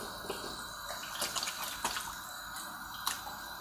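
Running tap water splashes over hands being washed at a sink, a steady faint trickle with small drips and splashes throughout.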